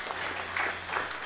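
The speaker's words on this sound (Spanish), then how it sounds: "Un aplauso, hermana Lorena" Soft, distant applause from a church congregation for a woman receiving her diploma, a brief, even patter of many hands with no talk over it.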